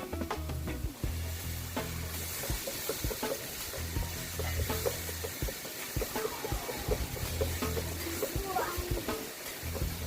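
Ackee being added to a hot pan for Jamaican patty filling, giving a steady frying sizzle with stirring and scraping knocks throughout, close and fairly loud with a low hum underneath.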